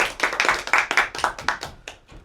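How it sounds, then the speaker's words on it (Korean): A small group clapping at a Tuesday Bible study lecture, about a dozen quick, sharp hand claps in a brisk burst that thins out and fades over two seconds, close and without talk. "박수 치고 시작하겠습니다"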